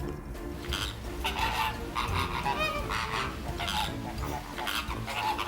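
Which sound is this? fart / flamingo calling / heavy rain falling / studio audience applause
flamingo calling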